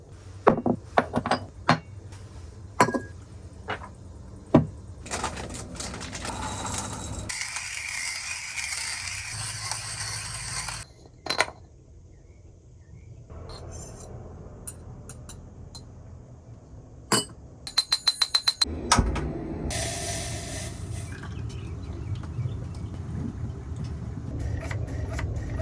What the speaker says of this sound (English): I'm gonna make another cup of coffee for myself